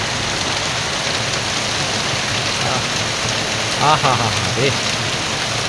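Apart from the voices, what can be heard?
heavy downpour rain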